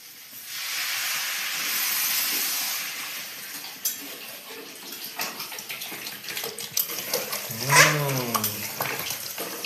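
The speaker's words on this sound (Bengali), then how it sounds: "কষা হয়ে গেল এবার জল দিয়ে দিই" Water is poured into a hot pan of dalia khichdi with dal and vegetables, bursting into a loud steaming hiss that fades into softer bubbling, with a voice briefly heard near the end.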